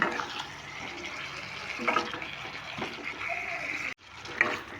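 Water poured into a pan of cooking Kashmiri-style potato curry (aloo dum), a steady gushing splash and sizzle running for several seconds with a brief break near the end, close and fairly loud.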